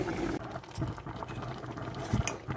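Tomato and cucumber dal simmering in a pot, giving a soft, close bubbling and light patter with a few louder pops, with no talking.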